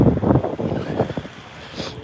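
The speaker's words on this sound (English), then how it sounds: "it's a bit windy" Gusty wind buffets the microphone outdoors in a pretty open area on a cold day, loud rumbling bursts in the first second and easing to a softer rush toward the end.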